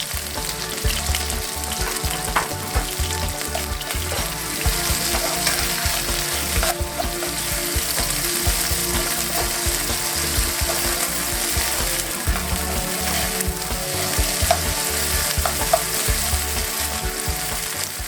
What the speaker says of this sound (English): And add the garlic to the pan.